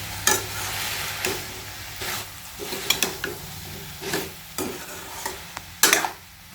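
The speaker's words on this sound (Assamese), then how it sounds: "এতিয়া এবাৰ লৰাই দিম।" Drumstick curry with potato being stirred in a pan, a steady sizzle under repeated scraping strokes of a spoon against the pan, close and moderately loud, with no voices.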